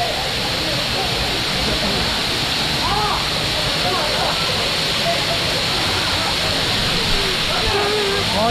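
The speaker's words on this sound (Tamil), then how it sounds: "இங்கே ஒரு குகையில் வந்து தண்ணி வந்துட்டு இருக்குங்க." A hidden waterfall inside a cave at Lakkom Waterfalls near Munnar gives a loud, steady, close roar of rushing water that fills the whole clip, with faint voices now and then beneath it.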